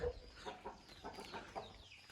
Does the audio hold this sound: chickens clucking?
yes